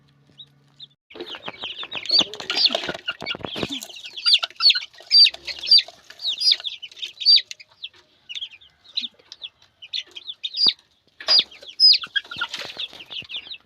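Chicks peep in rapid high-pitched bursts while hens cluck nearby, the chirping coming in steady clustered waves with brief pauses, fairly close and clear.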